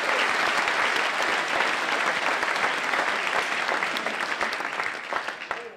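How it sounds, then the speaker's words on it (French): Dense applause from an audience at a political campaign meeting in Nice fills the space, loud and sustained before slowly fading toward the end, with no speech over it. "On peut l'applaudir, ça va la faire arriver."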